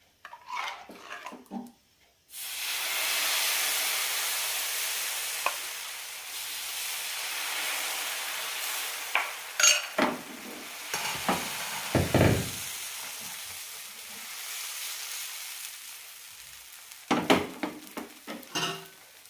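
Rice dosa batter poured onto a hot pan sets off a loud, steady hissing sizzle that starts a couple of seconds in and carries on, with a few close utensil knocks and clatters near the end.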